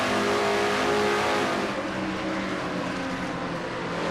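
Race car engine lapping Rockingham in a Castrol GTX Cup Series race of a racing video game, roaring through turns 3 and 4 as a steady, loud, close drone with a slight fall in pitch, no voices.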